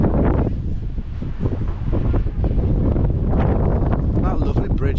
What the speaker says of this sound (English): It might be a bit windy, because it is a bit windy up here.